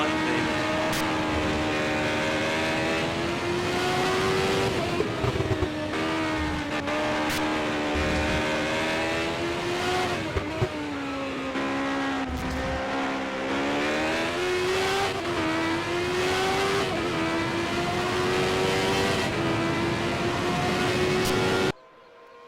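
Indy race car engines from a 1988 CART round in the Nissan Indy Challenge, a steady loud whine with rising and falling pitch as cars race in traffic, continuous for the whole stretch with no talk.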